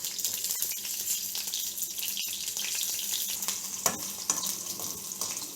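Green chillies fry in oil in a pan for a boiled dosakaya chutney, giving a steady close hiss with faint crackles and a few light clinks throughout.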